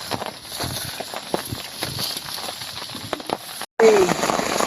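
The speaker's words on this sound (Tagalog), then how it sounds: "Walang tigil ang ulan" Steady rain pours over a campsite during a typhoon, a continuous close hiss broken by scattered heavier taps, with a brief dropout near the end before the downpour resumes.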